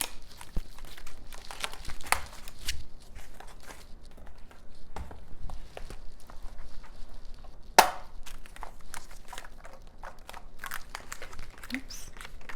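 Paper cash bills and envelopes are handled and sorted for cash stuffing, giving soft crinkles, rustles and small taps close by at a quiet level, with one sharper crackle partway through and no talking.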